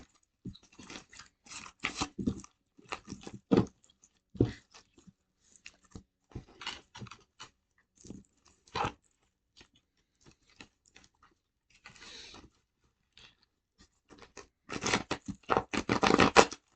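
A deck of tarot cards shuffled by hand, heard as rapid papery riffles and clicks in irregular bursts with short pauses between, growing denser and louder toward the end.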